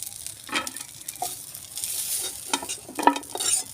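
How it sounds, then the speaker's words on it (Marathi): Pieces of dried bombil (Bombay duck) frying in oil make a close, continuous sizzle, and intermittent scraping stirs rise above it. "चार पाच मिनटं चांगली तेलात भाजून घेतले"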